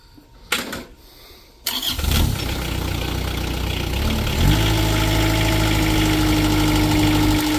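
A 2006 Moffett M55.4 four-way truck-mounted forklift engine cranks and fires up after a quiet moment, then settles into a loud, steady idle that rises slightly in pitch, heard close with no speech.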